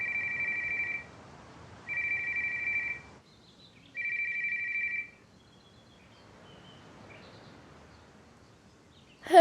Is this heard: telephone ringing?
yes